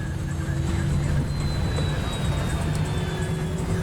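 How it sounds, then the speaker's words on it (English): Delta 191, an airliner on approach just short of the runway, flying into a microburst: a loud, steady roar of engines and rushing wind with low rumble throughout, no voices. "Just short of the runway, Delta 191 flies into the microburst."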